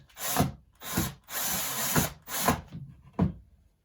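A power drill drives screws into a wooden baseboard in five separate bursts, each a loud whirring run of about half a second to a second, with short quiet gaps between them and no talking.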